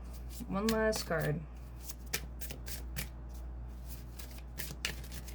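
Tarot cards being shuffled and flicked, a dry papery riffle followed by a string of light card snaps and slaps, close up, with a brief voice-like tone at the start.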